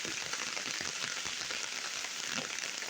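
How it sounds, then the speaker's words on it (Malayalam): Heavy rain pours down at a farm under construction in Kerala as a steady, dense hiss of drops that stays even throughout, with no talking. "നല്ല മഴ പെയ്യുന്നുണ്ട്"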